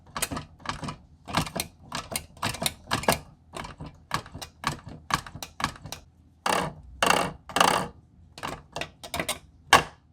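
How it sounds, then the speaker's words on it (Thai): A Spanish-made SHH shifter in sequential mode gives sharp, close clicks as its switch is pressed, sounding as irregular single and paired snaps with brief pauses, loud and dry with no one talking. "นี่โหมด sequential นะครับกดลงสวิตช์"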